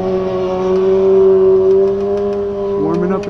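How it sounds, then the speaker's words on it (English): A motorcycle engine idles close by with a steady, loud droning hum, then its pitch shifts and climbs briefly near the end as it revs. "I hear a motorcycle."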